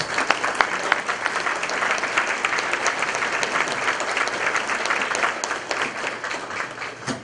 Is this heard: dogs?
no